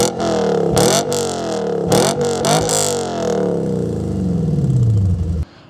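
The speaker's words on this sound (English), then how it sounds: "I do currently have an aftermarket exhaust setup." A Lexus ISF with a Hayward and Scott X-Pipe aftermarket exhaust revs hard several times, sharp throttle blips rising then falling, followed by a long descending engine drone that cuts off, close and loud.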